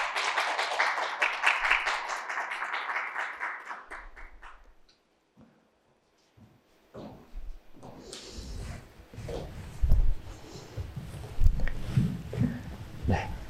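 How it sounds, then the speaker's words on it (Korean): An audience at an academic lecture claps to welcome a professor to the podium. The dense applause lasts about four seconds and then fades into quiet, followed by shuffling and faint voices. "큰 박수로 연단에 모시겠습니다"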